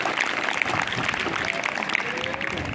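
Audience applause at a school yoga demonstration: steady, dense clapping from a crowd that holds at even loudness throughout, with a faint voice underneath.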